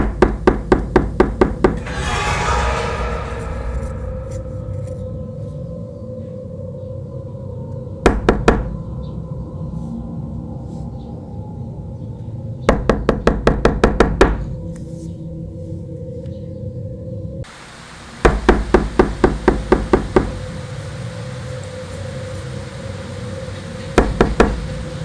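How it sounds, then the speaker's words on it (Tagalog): Knocks on a wooden door come in short, rapid bursts, several clusters spread across a quiet, dark-sounding room, each burst a quick series of close taps against a low steady hum. "May narinig akong mahihinang katok. 3 beses. Sunod-sunod."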